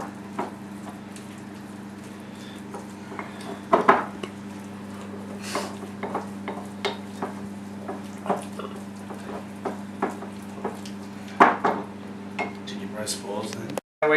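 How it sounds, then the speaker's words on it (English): A spoon mixes ingredients in a bowl, giving scattered clinks and wet squishy scrapes over a low steady hum, with someone talking throughout. "So we get a spoon now and we mix that up."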